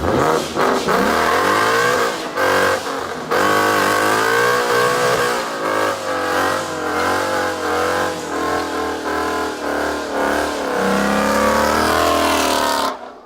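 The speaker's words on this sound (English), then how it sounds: "Guess I did a little bit bigger of a burnout than I originally thought." A 2024 Ford F-150 5.0 V8 pickup with a Corsa Extreme cat-back exhaust revs hard and holds steady with rough exhaust roar and shifting pitch, a tire-spinning burnout sustained for over ten seconds.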